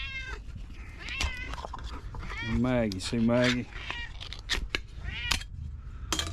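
House cats meow repeatedly at close range, with drawn-out, rising and falling cries in the middle and more calls near the end, while a person speaks softly between them during evening chores.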